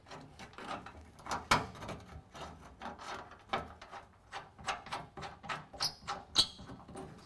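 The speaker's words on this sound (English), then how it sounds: "Squeak, squeak. Probably should have put some PB Blast on that." A bolt on a car's front fender bracket squeaks and grinds as it is turned, giving a rapid series of short, creaky rubbing strokes close to the microphone.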